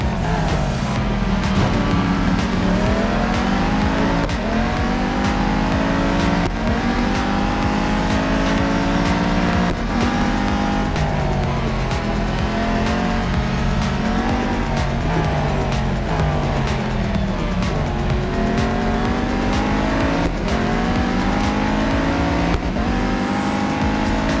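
Race cars in the mobile racing game Real Racing 3 drive a track with loud, continuous engine revving, rising and falling through gear shifts, with occasional tire squeal.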